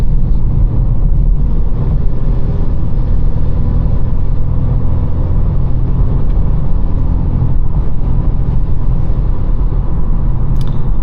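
Manual Volkswagen Golf R driving, a loud constant engine and road drone heard from inside the car, steady throughout with no talking.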